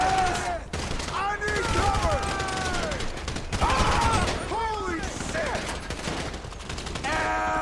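Automatic gunfire and repeated shots ring out in a Grand Theft Auto V shootout, loud and close in dense bursts, mixed with shouting voices, game music and tones throughout.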